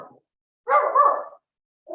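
A puppy barks during an online neighborhood council board meeting, a few short yips and one drawn-out bark in separate bursts with silence between, close and fairly loud.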